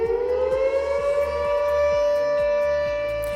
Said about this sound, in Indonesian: Sirine keadaan darurat level 2 akan berbunyi jika keadaan yang membahayakan hanya di area produksi.